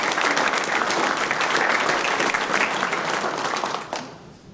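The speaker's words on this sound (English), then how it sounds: "Can we give our panelists a round of applause, please?" An audience at a town hall gives the panelists a round of applause: dense, sustained clapping from a crowd, loud and continuous before tapering off at the end.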